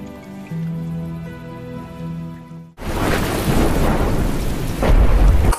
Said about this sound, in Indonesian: Hujan lebat yang turun setiap hari membatasi aktivitas para penduduk.